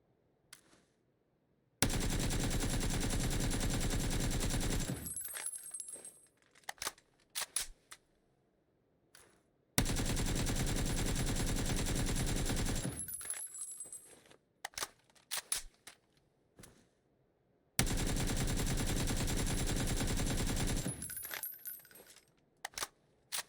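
Gunfire in PUBG during a recoil test: three long sustained bursts of rapid automatic fire, each several seconds, loud and close, separated by quiet gaps with scattered single shots and clicks.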